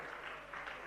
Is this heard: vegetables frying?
no